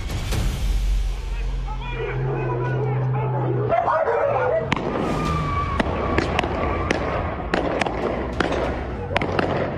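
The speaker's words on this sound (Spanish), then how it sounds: "Mira cómo se escuchan los balazos." A series of sharp sudden gunshots pop at irregular intervals near a bus terminal, mixed with distant voices and a barking dog in the background.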